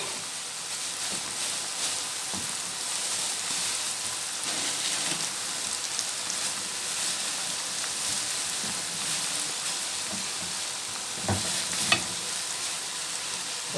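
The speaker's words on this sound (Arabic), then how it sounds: "البطاطسات بتتحمر، الستريبس بتاعنا بيتحمر او البانيه" Breaded chicken strips and potato pieces deep-frying in oil give a steady, dense sizzle with crackling bubbles throughout, plus a few louder clicks and knocks near the end, with no voices.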